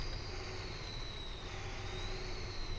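A Limares truck engine in the video game SnowRunner hums at a low, steady level with a thin high turbo whistle drifting slightly in pitch above the rumble, faint and continuous.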